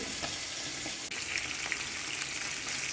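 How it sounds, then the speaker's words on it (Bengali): Steady, dense sizzle of a fish head frying in hot oil until red, continuous and close, with faint crackles and no voices. "মাছের মুড়োটা আমি ভেজে নেবো ভালো করে লাল করে ভেজে নেবো"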